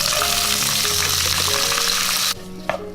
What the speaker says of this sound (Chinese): 把辣椒圈倒进了翻炒